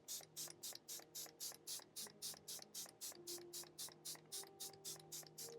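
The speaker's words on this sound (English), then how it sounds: "Milani Make It Last Original Natural Finish Setting Spray." Milani Make It Last Original Natural Finish Setting Spray misted in a steady run of about twenty quick, evenly spaced hissing pumps, close and crisp, with no talking.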